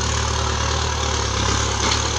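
A Kubota M6040 tractor engine runs steadily with a loud, close, low diesel rumble and an even throb throughout, no talking over it.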